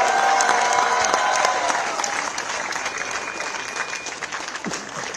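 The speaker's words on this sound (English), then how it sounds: "Let's give a big round of applause to all the volunteers" Sustained applause from a large crowd at a ceremony honouring Olympic medal winners at India House, dense clapping with some cheering, loud at first and gradually easing off a little.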